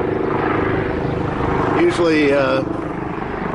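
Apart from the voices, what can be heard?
helicopter landing at the airport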